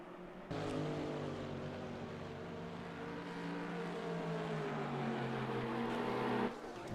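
GT3 McLaren race cars in a sim racing game at Suzuka, heading down toward turn 1: a sustained engine drone with shifting, gliding pitch, rising abruptly and holding steady for about six seconds before cutting off, with no speech.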